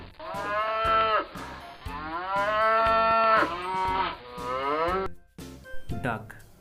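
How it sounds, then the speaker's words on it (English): A cow moos several times in long, drawn-out calls with a harmonic, rising-and-falling tone, loud and close, with short pauses between calls and a few brief rustling sounds near the end. "moo sound."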